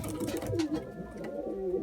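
A Kepez pigeon coos nearby in a few low, throaty rolling calls, with a faint rustling background.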